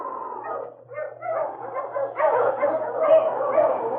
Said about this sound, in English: Then a chorus of barking filled the clearing as 3 sleds were driven up to the trading post